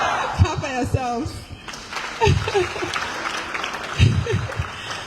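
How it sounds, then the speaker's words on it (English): Applause from the audience at the official launch of the Executive Mansion Communication Internship Program, scattered clapping mixed with voices and chuckles, rising in bursts. "Clap for yourselves"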